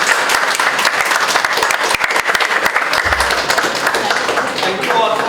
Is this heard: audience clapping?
yes